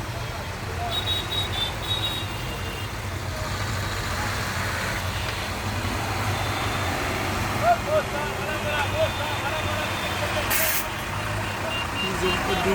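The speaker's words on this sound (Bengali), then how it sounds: "হাওড়া ব্রিজ প্রচণ্ড জ্যাম।" Heavy, jammed traffic crawls across Howrah Bridge in pouring rain, producing a continuous dense rumble of trucks and cars with rain hiss, a brief high tone and occasional short hisses near the end.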